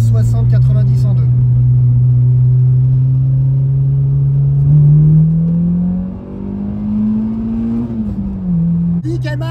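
A 1996 Peugeot 106 Rallye pulling from 60 to 90 km/h in second gear, a loud close engine drone climbing steadily in pitch, then easing off near the end as a voice returns.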